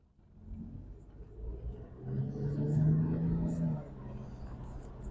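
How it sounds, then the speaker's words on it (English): A car's brakes give a low, rough growl that swells and then fades over a few seconds as the vehicle rolls slowly at a dealer auction. "A little growling there in the brakes, a little growling."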